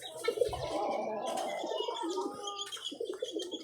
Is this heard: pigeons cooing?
yes